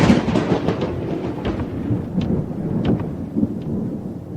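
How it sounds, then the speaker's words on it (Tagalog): Loud, close thunder rumbles continuously in a heavy thunderstorm, booming cracks rolling over steady rain, with no voices. "Hindi pa ako natatapos sa pagsasalita nang biglang kumulog."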